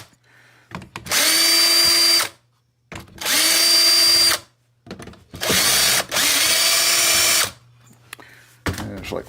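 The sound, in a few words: power driver removing screws from Makita saw cover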